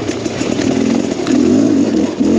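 Rieju MR Pro 300 dirt bike ridden through rutted countryside, its engine revving loud and close, the throttle surging and dipping with a gritty, pulsing note.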